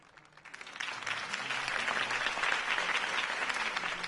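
Crowd applause in a Batman video game greeting Harvey Dent's campaign speech, building quickly from quiet into a broad, steady wash of clapping that holds for several seconds.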